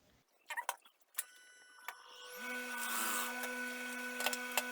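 A sewing machine runs a steady stitch across slippery trouser fabric, a continuous mechanical whir that builds and holds for a couple of seconds after a few scattered clicks and taps, close and fairly quiet.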